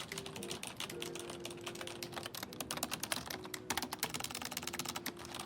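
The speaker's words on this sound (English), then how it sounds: "A lot of typing you're having to do there." Steady rapid typing on a computer keyboard at a hotel check-in desk, the clicks dense and continuous at moderate level over a low background hum.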